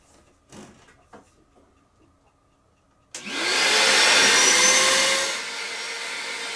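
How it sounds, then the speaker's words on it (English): After a few faint knocks and rustles, a vacuum cleaner starts up and roars loudly and close while sucking water off a wet floor, then drops to a steadier, slightly lower drone. "I'm going to vacuum that back up"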